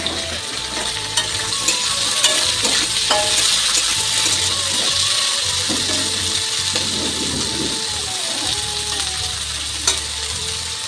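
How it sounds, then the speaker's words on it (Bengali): Sliced bitter gourd (karela) fries in a home kitchen pan with a loud continuous sizzle, punctuated by repeated scrapes and metallic clinks of a spatula stirring against the pan, close and without speech. "তো করলা ভাজিটা এখন বসাই দেব।"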